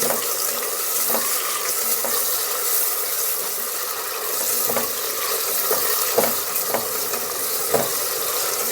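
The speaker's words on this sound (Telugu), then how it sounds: "ఆనియన్స్ వేగాలండి." Onions fry in a pot while being stirred, a continuous bright sizzle punctuated by regular soft scrapes of the spoon, close up and without talk.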